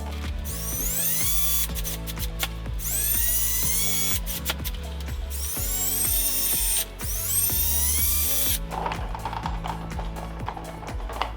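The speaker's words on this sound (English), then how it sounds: "Now I'm going to drill the sides of the lip so that it stays in place on the bumper" A power drill whirs in repeated bursts, its motor pitch rising as it bites into a plastic bumper lip on a Mitsubishi Evo X, with brief pauses and handling clatter between runs.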